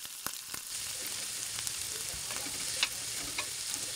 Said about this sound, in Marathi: आपण मस्त ते वाटण परतून घेऊया तव्यावरती